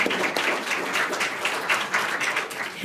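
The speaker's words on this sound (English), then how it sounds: "Can I get one more round of applause for the group?" An audience gives a round of applause for panelists at a climate art awards panel discussion, a dense, steady burst of many hands clapping close by with no voices over it.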